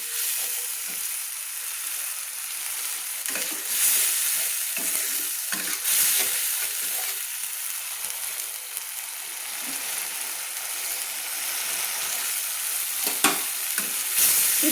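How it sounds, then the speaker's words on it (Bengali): Spice paste fries and is stirred in hot oil for a Bengali eggplant and shrimp dish, giving a steady close sizzle with scattered scraping strokes of a spatula against the pan. "দিয়ে ভালো করে আমি তেলের মধ্যে কষিয়ে নিচ্ছি"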